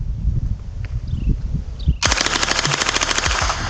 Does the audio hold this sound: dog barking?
no